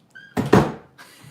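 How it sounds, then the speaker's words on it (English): A door is shut indoors with a single solid thud and a short knock of wood, preceded by faint shuffling and tonal squeaks, with the room falling quiet afterward. "Shut the door."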